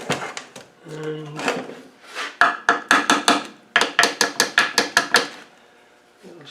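Small screwdriver tapping a part loose on a neglected Land Rover LT77 gearbox, a quick run of sharp metallic knocks in two rhythmic bursts, close up, with brief scraping and handling between.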